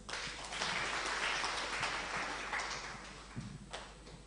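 An audience applauds as a Sister is welcomed to the stage at an event on a blended value project, with dense clapping swelling early and then thinning toward the end.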